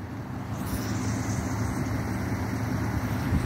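Steady wind at a beach where kites fly, a constant broad rushing roar buffeting the microphone, even and unbroken throughout.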